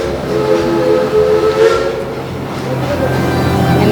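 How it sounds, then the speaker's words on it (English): A steam train whistle blows at Silver Dollar City theme park on opening day, sounding as a sustained, fairly loud tonal blast with steady hiss that holds through the whole stretch without talk. "You hear the sound, the whistle? That's a different train."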